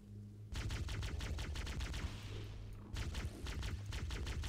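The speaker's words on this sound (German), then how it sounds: "Ah, ein Schuss." Rapid bursts of gunfire from the video game Halo rattle in quick succession, loud and dense, pausing briefly before another volley starts.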